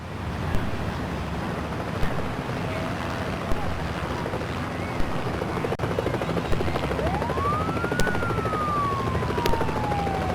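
Helicopter rotor drone in the 3DO video game Shelley Duvall's It's a Bird's Life, a steady whirring hum running throughout at moderate level, with a rising and falling whistle-like tone near the end.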